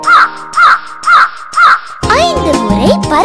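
A crow caws four times in even succession, clear and close, in a Tamil children's rhyme about a crow, followed by a burst of busy musical backing.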